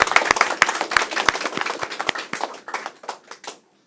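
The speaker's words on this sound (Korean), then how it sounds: "이때 지금 박수 한번 쳐줘요" Audience clapping at a county governor's lecture on Geumsan ginseng, a burst of many hands that thins into scattered claps and fades out over a few seconds.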